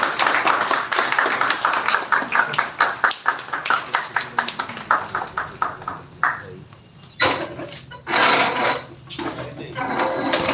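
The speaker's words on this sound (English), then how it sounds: "So please clap for him." An audience applauds a speaker being introduced at a public speaking session: a burst of scattered, fairly close clapping that thins out, followed by a couple of short louder bursts of claps near the end.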